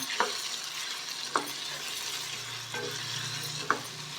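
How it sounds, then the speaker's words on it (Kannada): Guntur and Byadgi red chillies roast in a pan over medium flame, a soft continuous sizzle broken by a few sharp scraping stirs at regular intervals. "ಇನ್ನು ಮೀಡಿಯಂ ಫ್ಲೇಮಲ್ಲಿ ಒಂದು ಮೂರರಿಂದ ನಾಲ್ಕು ನಿಮಿಷ ಚೆನ್ನಾಗಿ ರೋಸ್ಟ್ ಮಾಡ್ಕೊಳ್ಳಿ"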